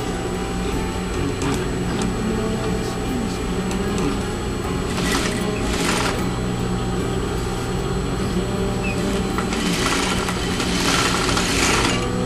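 Sewing machine stitching around the edge of a pillow with a rounded corner for custom window treatments, running as a steady continuous mechanical whir with no breaks, close and moderately loud.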